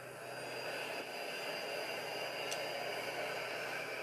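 An airliner's jet engines in Microsoft Flight Simulator 2020 hold a steady, even roar at power, a constant broadband hiss with a high whine running through it.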